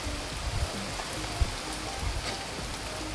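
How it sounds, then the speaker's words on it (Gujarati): Steady hiss of heavy rain pouring down outdoors, even and continuous with a few low thumps of drops on a surface, no voices. "વરસાદ ચાલુ હતો"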